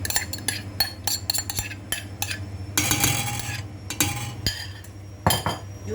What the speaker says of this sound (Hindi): इसको जल्दी से मैं मिक्स करती हूँ